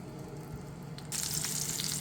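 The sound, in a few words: chicken frying in a pan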